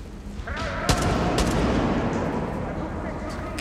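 Loud bursts of gunfire in the video game Far Cry 6, with sharp reports and booming blasts layered over a rumbling background.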